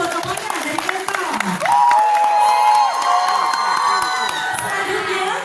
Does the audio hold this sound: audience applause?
yes